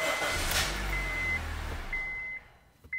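Honda Civic engine running near the microphone with a low rumble and a steady chime tone, then the engine cuts out and falls quiet before a short click at the end.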